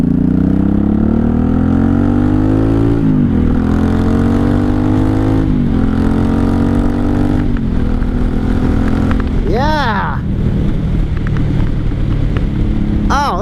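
A 1983 Honda Shadow VT750C 750 motorcycle on its first ride, heard from the rider's seat: a loud, steady engine drone rising in pitch through the gears, briefly easing off before pulling up again, with a short chirp near the end.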